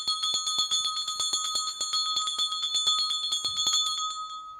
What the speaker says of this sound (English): We are ringing the bell.